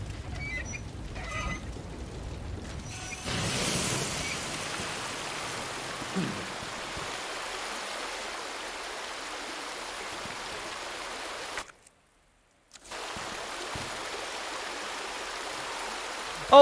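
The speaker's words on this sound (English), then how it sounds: "Oh, so it's turned the way that the water goes." Water flowing steadily in Resident Evil 2 Remake after a valve is turned, a constant hissing rush that cuts out briefly near the end and then resumes.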